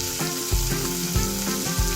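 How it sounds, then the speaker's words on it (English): Chopped onion drops into hot oil and fries, a loud close sizzle with a few bursts of crackling as it is stirred, no voices over it. "So I'm adding chopped onion in it."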